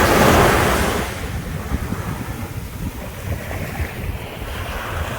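Ocean surf on a Cancun beach, a loud wash of breaking waves at first easing into a steady low rumble of gentler waves and wind noise, with no voices.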